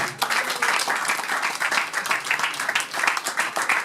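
Congregation at a funeral service breaking into sustained applause, dense steady clapping from many hands filling the room at fairly close range, with no talk over it.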